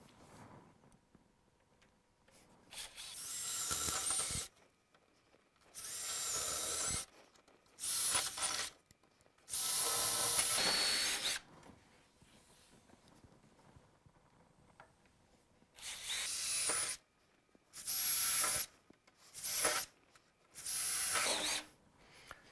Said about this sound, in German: jetzt können wir hier die Löcher bohren